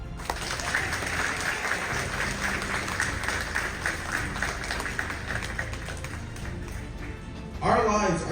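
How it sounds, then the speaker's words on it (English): A graduation ceremony audience claps in sustained, even applause that fills the room for several seconds, then fades as a speaker's voice begins. "let us give a round of applause to them"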